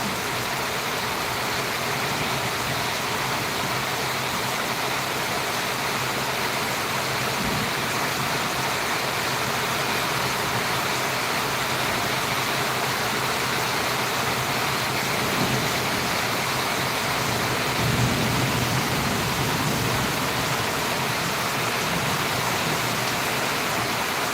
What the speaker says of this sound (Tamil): நல்ல ஒரு சரியான மழை பெஞ்சிட்ருக்கு